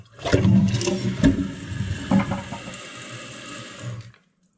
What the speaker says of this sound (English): So we're going to flush it.